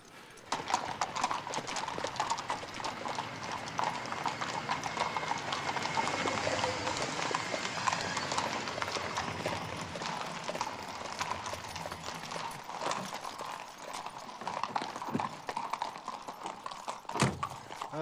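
A horse's hooves clip-clop steadily on a hard surface, a continuous brisk rhythm of near, distinct hoofbeats lasting throughout.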